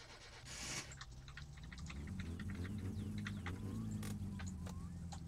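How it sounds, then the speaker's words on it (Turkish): A car engine in the game My Summer Car cranks with a brief rasping burst, then starts and settles into a steady low idle that rumbles on with faint clicks and rattles over it. "Şimdi şu arabayı çalıştır."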